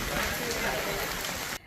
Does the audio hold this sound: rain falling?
yes